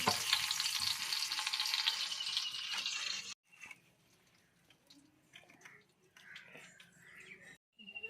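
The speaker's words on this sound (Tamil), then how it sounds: "இப்போ எண்ணெய் ஹீட் ஆகிடுச்சு பட்டை வகை சேர்த்துக்கலாம்" Cinnamon and whole spices dropped into hot oil in a pan for dum biryani, a bright loud sizzle for a few seconds, then quiet crackles, drips and light handling noises.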